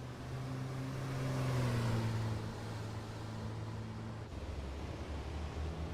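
Scania T racing truck engine lapping the Jarama circuit in a video game, a steady mid-level drone with a pitch rising and falling through gear changes, heard alone without talk.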